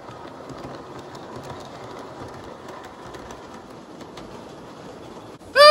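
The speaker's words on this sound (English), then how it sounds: "Oh, Henry, isn't it awfully nice to have a decorated train?" A small model live steam train rumbles steadily along with a light clattering rhythm, chirps and clicks above it, then a sudden loud burst right at the end.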